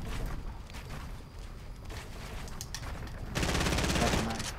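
Gunfire fills a Fortnite battle royale match in continuous rapid bursts that grow louder near the end, while players talk over the shooting.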